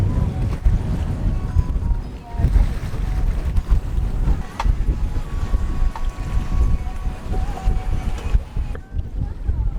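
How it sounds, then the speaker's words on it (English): Strong wind of 18 to 22 knots gusts and buffets around a sailboat anchored in the San Blas Islands, a continuous roaring rush with microphone wind noise and no voices. "18 to 22 knots of wind"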